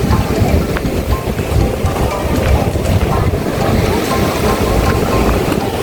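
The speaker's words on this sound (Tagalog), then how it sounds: "Grabe ang alon." Strong sea waves wash and crash around a boat off Siquijor, a dense, steady roar of surf and water mixed with heavy wind buffeting the microphone throughout.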